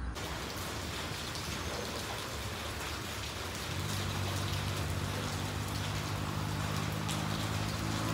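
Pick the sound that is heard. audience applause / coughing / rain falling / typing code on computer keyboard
rain falling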